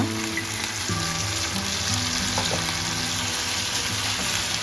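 Cooked rice goes into a hot pan for vegetarian fried rice, and a continuous loud sizzle and frying hiss fill the clip, with faint stirring scrapes and no talking.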